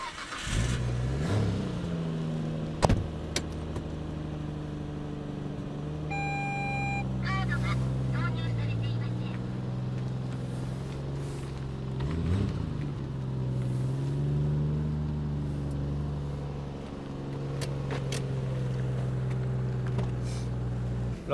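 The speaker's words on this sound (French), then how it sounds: "je te laisse nous démarrer l'auto. Ça sonne pas ouf, hein." A Nissan Skyline R33 GT-R sedan with an RB26DETT engine cranks, starts and settles into a rough, throbbing idle up close, with a couple of sharp clicks and people chatting over the running engine.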